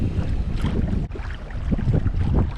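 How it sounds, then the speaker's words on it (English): Strong wind gusts across a lake during December kayak trout fishing, a rough, rumbling low buffeting against the microphone with water movement beneath, steady and close with a brief dip midway. "I may not have come if I knew it was going to be this windy"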